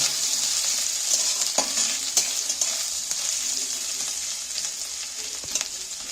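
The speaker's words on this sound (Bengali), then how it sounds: "সেই নারকুল কাটাটা আমি তেলের মধ্যে তুলে দিচ্ছি" Chopped coconut pieces fry in hot oil with a steady, dense sizzle and crackle, broken by a few sharp spatters and stirring knocks, close and fairly loud with no voices.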